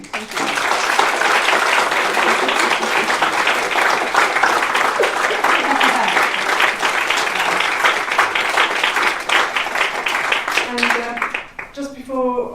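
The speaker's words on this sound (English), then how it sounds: "I'd like to invite you to give Carla another round of applause" An audience at a public lecture gives a speaker a long, loud round of applause, dense and sustained, tapering off near the end as a voice begins speaking.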